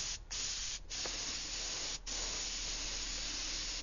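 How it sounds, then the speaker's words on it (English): An airbrush sprays paint in a steady, close hiss while painting a skull, with a few brief breaks as the trigger is released and pressed again. Nobody talks. "I spray slightly away from the edge if I can"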